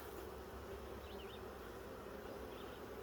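Steady, dense buzzing of many honey bees close by in an open hive, a continuous hum with occasional higher whines of individual bees passing.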